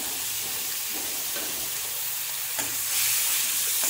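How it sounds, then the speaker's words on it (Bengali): Grated onion, garlic and ginger with spices fry lightly in a pan, making a continuous close hissing sizzle that swells slightly near the end. "দিয়ে আমি হালকা করে একটু ভেজে নেব"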